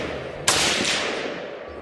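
A single sharp rifle shot cracks loud and close at an outdoor shooting range while guns are sighted in, followed by a long fading echo.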